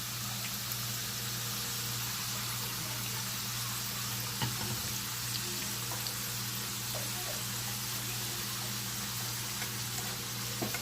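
Homemade chips frying in hot oil, a steady dense crackling sizzle that holds constant throughout with a faint low hum beneath and no voices.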